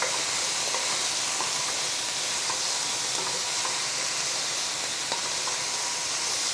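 Vegetables stirred and frying in a pan give an even, fairly quiet sizzling hiss, with faint occasional taps from the stirring.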